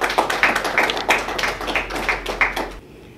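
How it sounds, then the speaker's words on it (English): Audience clapping at a bank's product launch, with a brief round of sharp, rhythmic claps close to the microphone that stops abruptly after about three seconds. "I hope you can clap for us."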